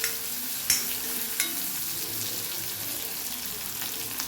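Onion and dried red chillies deep frying in hot oil for a potato and brinjal stir-fry, a close continuous crackling sizzle with a few sharp spoon clanks on the pan.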